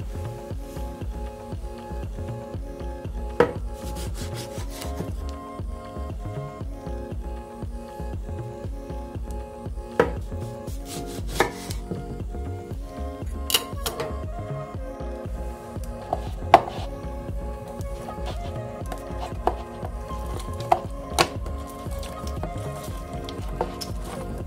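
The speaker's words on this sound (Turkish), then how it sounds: "Bütün limonları aynen bu şekilde kesip her birinin suyunu alıyoruz arkadaşlar." Boiled lemons being cut with a knife on a board, a series of irregular close knocks and soft squishy cuts over a quiet kitchen background.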